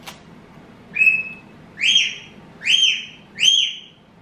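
A cockatiel gives four rising whistled chirps at roughly one-second intervals, clear and close, against quiet low background noise, with no speech.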